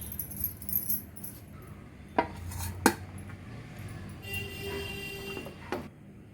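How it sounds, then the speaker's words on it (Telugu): Prawn biryani being served into a bowl, with a few faint metallic clinks and scrapes of a spoon against dishes, two sharper knocks standing out in an otherwise quiet kitchen. "ఇప్పుడు బౌల్లోకి సర్వ్ చేద్దామండి"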